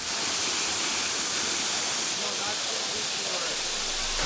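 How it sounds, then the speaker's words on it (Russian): Waterfall in El Salvador: a steady, loud broadband rush of falling water that fills the whole clip without a break. "Следующая локация, куда мы приехали, водопады."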